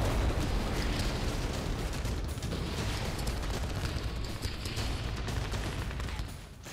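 A dense, continuous roar of distant blasts and rapid gunfire from Israeli army strikes in northern Gaza rumbles without pause, heavy low booms blending into a steady din that fades slightly at the end.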